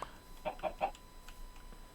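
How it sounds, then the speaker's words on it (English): Minecraft chicken clucking from the video game, a short run of three quick clucks followed by a couple of softer ones, fairly clear and alone without talk. "What are you doing, chicken? Get out of there."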